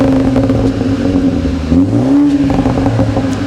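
BMW 320i G20 fitted with a Dku Performance sports rear back box exhaust, revving loudly and close by with a deep, steady drone that swells in pitch and falls back, no talk over it.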